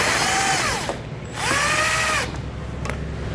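Power driver with a T15 Torx bit backing out fender liner fasteners on a 2021 Chevrolet: two short whirring bursts with rising and falling motor pitch, close and fairly loud, separated by a pause, then a brief click.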